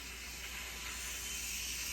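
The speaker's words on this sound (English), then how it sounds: "You hear that steam escaping?" Steam hisses steadily out of a pressure cooker's opened release valve after a batch of hardboiled eggs, a faint continuous airy rush with no talk.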